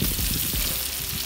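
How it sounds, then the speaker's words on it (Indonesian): Salted peda fish frying in a pan for a Sundanese home-cooked meal gives a steady, dense sizzle and crackle that holds at an even loudness, with no voices over it. "Kita juga menggoreng apa namanya ikan ini? Asin peda. Ikan asin peda"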